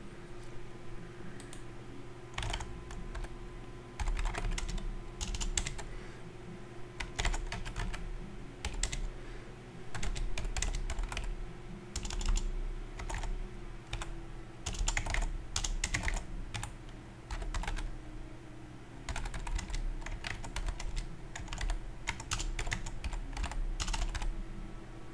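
Keys clatter in steady bursts of typing on a computer keyboard, close and fairly loud over a low hum, pausing briefly between runs of text entry.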